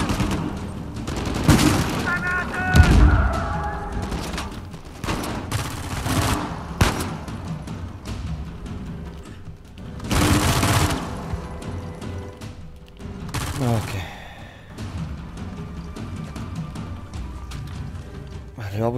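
Gunfire in the video game Uncharted 4 comes in bursts of rapid shots and heavier blasts during a firefight, with loud clusters separated by quieter stretches. A player talks at times over the action.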